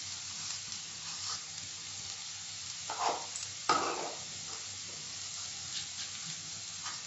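Ground spices go into a pan of fried ginger and garlic for a mushroom pepper fry, giving a soft steady sizzle with spoon stirring and a couple of brief sharper hisses.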